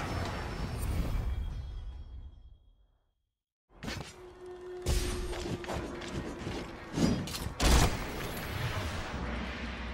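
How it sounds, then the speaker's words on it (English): Slinger ammo bursts fired in Monster Hunter World: Iceborne, a run of sharp percussive blasts and thuds after a brief silence, loud and close over game music and effects. "Get the drop on the monsters by letting off slinger bursts at any moment"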